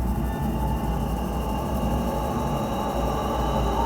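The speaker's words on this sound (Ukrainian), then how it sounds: "Метро в натуре слышно." Deep, steady rumble of a metro train running underground, heard from inside a cave near Kyiv, loud and continuous with no voices over it.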